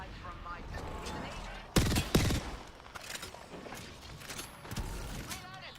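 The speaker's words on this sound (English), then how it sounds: "The enemies are shooting." Enemy gunfire in the video game Apex Legends, heard in a ranked match on the World's Edge map: a loud burst of close shots stands out above game ambience, with scattered fainter shots and mechanical clicks around it.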